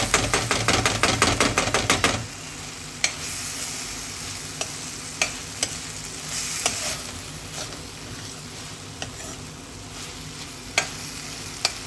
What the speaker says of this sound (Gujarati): બરાબર હલાવી લઈશું.